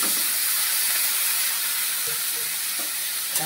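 Onions frying in a hot pan as hopa is added, a steady loud sizzle and hiss with faint stirring scrapes, no voices.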